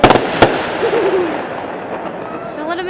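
Backyard fireworks go off outdoors: two sharp booming cracks open the sequence, followed by whistling, crackling bursts that fade away. Onlookers can be heard faintly in the background.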